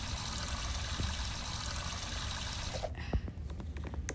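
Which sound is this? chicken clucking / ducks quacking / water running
water running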